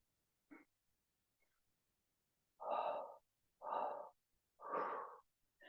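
Three strong, evenly spaced exhalations are blown out in stages, close and breathy, as part of a three-part breath in a chair yoga session, preceded by a brief fainter breath sound.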